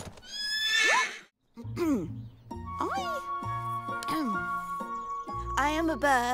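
A cartoon horse gives a loud, shrill whinny, then animated music and sound effects follow with hooves clip-clopping and more neighs mixed in under the score.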